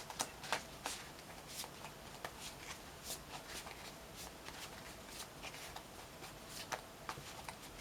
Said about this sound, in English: I do shuffle my cards until I really feel that it's right to